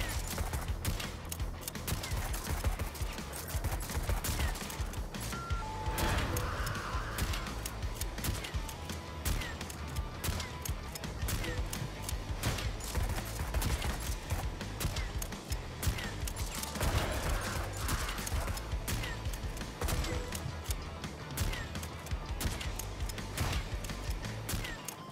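Continuous gunfire from the Dustoff Z video game on Xbox One, a dense steady barrage of shots layered over game sound and music, with quiet talk at times.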